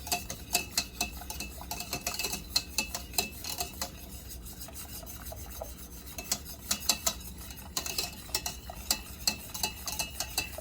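A whisk scrapes and clicks rapidly against a pan of cooking cream, butter and sugar sauce, steady rhythmic rasping strokes at moderate volume with brief pauses, no talking.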